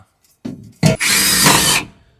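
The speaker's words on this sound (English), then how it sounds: "And I'll drill a hole." A power drill bores a hole while air bags are being fitted to a vehicle: a couple of short clunks, then a loud, steady whirring burst of drilling lasting under a second before it stops.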